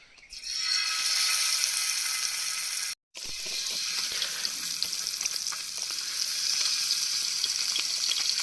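Hot oil sizzles loudly and continuously as fish fries on a flat griddle pan, with a brief silent cut before the crackling resumes; no one speaks.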